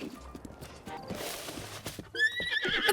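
A horse in The Legend of Zelda: Breath of the Wild clip-clops at a run, then gives a sharp, close whinny near the end.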